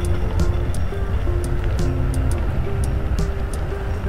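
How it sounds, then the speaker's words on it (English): Segway Drift W1 electric skates roll along outdoors, giving a steady, loud rumbling drone under buzzy motor whines that step up and down in pitch, with brief ticking clicks over it and no talking. "So I'm riding on Segway Drift W1"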